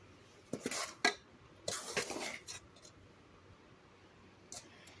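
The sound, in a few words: stirring a pot while making soda ash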